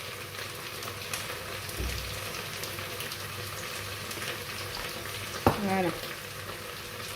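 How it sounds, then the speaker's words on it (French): Potatoes cook in a covered pan in a home kitchen, giving off a steady, quiet sizzle throughout, with a brief clatter near the end and a short spoken word. "Et je laisse comme ça en attendant que mes pommes de terre cuisent."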